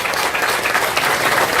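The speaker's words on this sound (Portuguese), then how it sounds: "Uma salva de palmas para o Mestre Zeca." A crowd at a fandango festival on Ilha dos Valadares applauds a rabeca master, a brief burst of dense, loud clapping from many hands.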